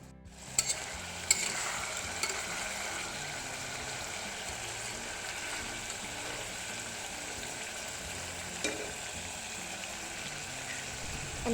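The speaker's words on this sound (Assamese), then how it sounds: "জুইটো হাই ফ্লেমত ৰাখি মাংসখিনি এনেদৰে ভাজি ল'ব লাগিব ভালকৈ" Goat mutton with turmeric sizzles steadily as it fries in a pan over a high flame, with occasional sharp stirring clatters near the start and a low, continuous hiss throughout.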